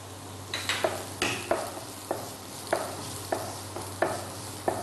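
Onion and garlic sauté in a pan with a steady low sizzle, broken by regular scraping stir strokes about every half second to second, close and fairly quiet, with no voices.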